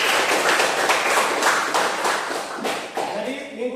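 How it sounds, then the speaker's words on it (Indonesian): A classroom of students claps for a geography lesson in a steady, dense patter that fills the room, with a voice starting to speak near the end. "kita kasih aplaus"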